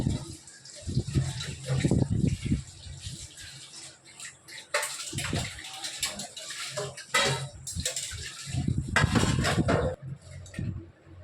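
Water splashes and sloshes in a basin as cut tubers are rinsed by hand in salt water, with irregular bursts of swishing and dripping, close and moderately loud.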